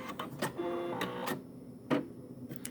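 A Brother SE-series embroidery machine's automatic thread cutter runs for under three seconds as a steady mechanical whir, with a couple of short, sharp clicks and snaps standing out at close range.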